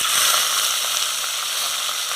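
Onions fry in hot oil with a bright, steady hiss throughout, close and fairly loud, with no talk.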